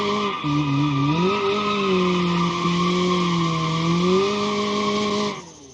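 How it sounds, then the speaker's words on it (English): An 1980s American turbo sports car does a burnout in the BeamNG driving game, its tires squealing loudly and continuously over a droning engine tone that shifts in pitch, until the sound cuts off abruptly near the end. "Oh, I can do a burnout though."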